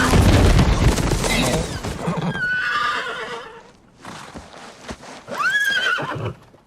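A horse getting up in The Rings of Power series, with loud close whinnies and neighs, hoof clatter and scrambling thuds, and dramatic booming sounds in between.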